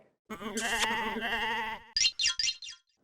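A goat bleating loudly and close, one long quavering cry followed by several short sharp bleats in quick succession, with silence around it.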